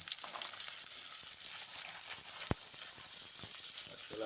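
Chickpeas fry in a pan with a constant close bright sizzle and light crackle, and one sharp tap of a utensil comes partway through.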